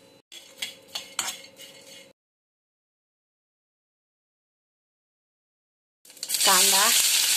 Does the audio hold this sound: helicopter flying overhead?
no